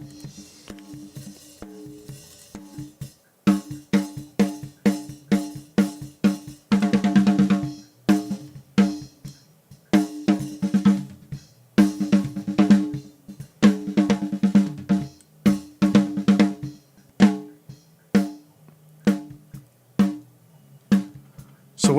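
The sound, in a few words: gating effect from polarity-flipped dry signal against compressor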